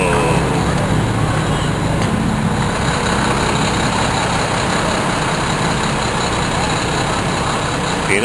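A Volvo engine idles steadily nearby, a low even rumble that holds for the whole stretch on a busy street, with background noise and faint voices mixed in.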